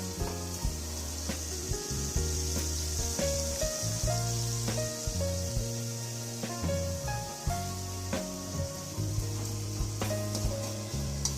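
Tomatoes frying for sambar in a village kitchen, with a continuous close sizzle and hiss, and repeated rhythmic scraping and knocking of a stirring utensil against the pan, with no talk.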